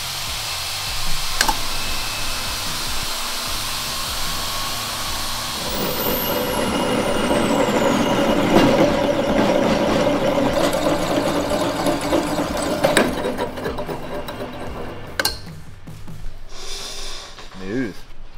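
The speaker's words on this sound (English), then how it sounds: "So we got this new tube notcher all set up, got the height right where it needs to be" A Baileigh industrial tube notcher runs on a test cut, a loud continuous motor drone with grinding and rasping that swells midway, alongside workshop noise and people talking nearby.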